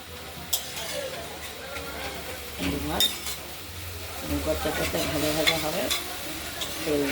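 Drumstick flower greens fried and stirred in a pan, giving a soft continuous sizzle with scraping and clinking of a utensil, while a voice talks over part of it.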